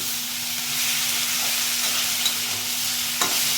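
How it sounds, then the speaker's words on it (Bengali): Dried loitta fish frying with chili paste in a pan, being stirred: a steady, close hiss and sizzle with soft scraping of the stirring, alone without voices. "আমি লঙ্কা বাটা দিয়ে দিলাম এবার আমি নাড়তেই থাকি"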